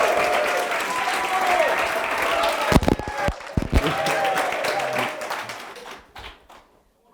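Audience at a Startup Grind San Francisco event applauds a speaker's welcome, dense clapping that thins into scattered claps and fades to silence, with a voice speaking briefly partway through.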